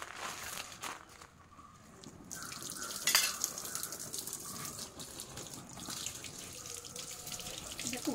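Items being washed in a sink, with running tap water and splashing, small clinks of dishes or produce being rinsed, and a brief louder burst of water partway through, close and continuous.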